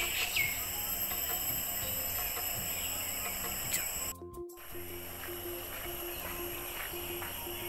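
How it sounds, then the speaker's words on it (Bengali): Assorted birds call faintly and sporadically in a forest eco park next to a tea garden, with thin chirps over a steady hiss of insects and ambient noise. "আর সাথে পাখির ডাক, বিভিন্ন রকমের পাখি।"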